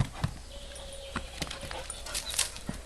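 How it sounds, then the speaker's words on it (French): A dog whimpers and whines in short, soft, high cries close by, with faint rustling and movement around it and someone speaking quietly nearby. "Viens là, ma chienne."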